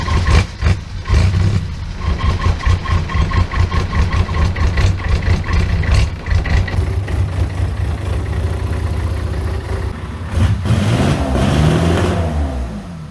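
A diesel-swapped Corvette engine, overheated but running, idles loudly and steadily close by. It gives a rough, rapid pulsing throb, with a few throttle blips and a revving rise near the end, and no talk.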